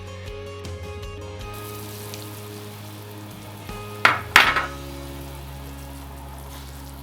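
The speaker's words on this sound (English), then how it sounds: "Let that sizzle for just a minute" Steady sizzling of carrots and daikon frying in hot oil for houtou nabe, with a couple of sharp crackling bursts as food is stirred or added.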